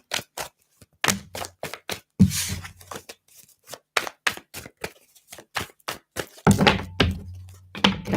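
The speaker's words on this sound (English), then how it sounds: "Let's do another shuffle." Tarot cards shuffled by hand, a run of sharp, dry snaps and taps in uneven bursts, close and fairly quiet, with brief pauses between handfuls and no talking.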